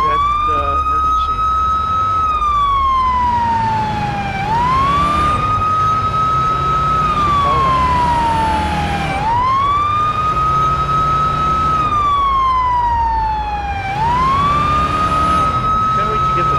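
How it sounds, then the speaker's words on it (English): A police car siren in Police Simulator: Patrol Officers wails loudly in repeated rising and falling sweeps, about every four to five seconds, over a low engine rumble. "Siren, code 3, full code 3, let's go."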